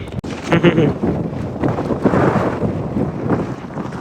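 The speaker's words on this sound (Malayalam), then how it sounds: "കാറ്റുണ്ട്" Gusts of wind buffet the microphone with loud, low rumbling bursts, a steady blustery roar that rises and falls, at the shallow water's edge in La Paz, Mexico.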